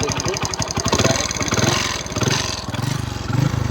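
Royal Enfield Bullet motorcycle engine running close by with a loud, steady thumping pulse, its chugging rhythm wavering slightly in speed throughout.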